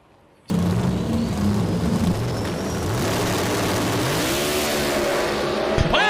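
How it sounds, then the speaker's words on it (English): Top-fuel style NHRA drag racing car roaring loudly and continuously through violent tire spin, its engine note wavering and climbing before a sharp thump near the end. "Goes into some violent tire spin and then gets into the fence"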